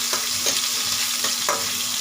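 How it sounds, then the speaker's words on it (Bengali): Chopped onion sizzling in hot oil in a pan, a dense steady crackle with a few rhythmic scrapes of a stirring spatula, close and fairly loud with no talking. "একটু ভাজা ভাজা হোক একটু পেঁয়াজ।"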